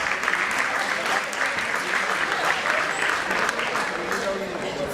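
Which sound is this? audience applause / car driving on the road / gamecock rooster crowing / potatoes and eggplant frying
audience applause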